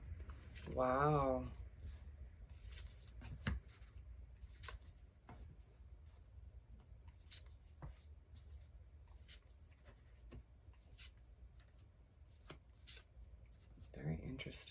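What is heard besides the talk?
laying out tarot cards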